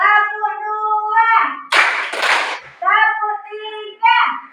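A school class clapping hands in rhythm, two short loud bursts of group clapping set between children's sung chanting voices.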